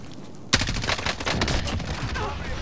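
Gunfire in Call of Duty: Modern Warfare Warzone starts with a sudden loud crack and continues as a dense barrage of overlapping shots, with voices talking underneath.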